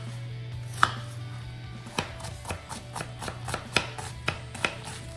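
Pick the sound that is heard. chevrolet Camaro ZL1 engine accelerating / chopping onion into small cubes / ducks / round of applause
chopping onion into small cubes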